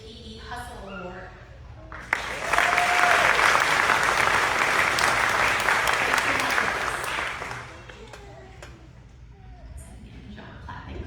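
An audience at an elementary school awards chapel breaks into sustained applause for a student, a full, even burst of clapping lasting several seconds between spoken announcements.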